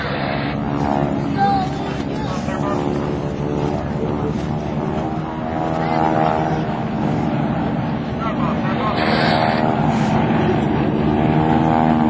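A loud, steady drone of propeller aircraft engines as a four-plane formation of CJ-6 aircraft passes overhead at an airshow, mixed with wind noise and a slight swell in intensity.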